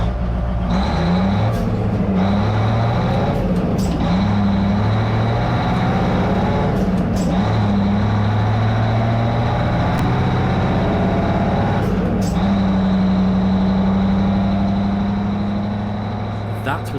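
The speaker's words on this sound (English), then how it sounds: "That was the sound of a Thornycroft Mark 9 vintage RAF fire engine." A heavy Thornycroft Mark 9 vintage RAF fire engine rumbles steadily at close range, its low drone rising and falling as it revs, with occasional clanks over the continuous run.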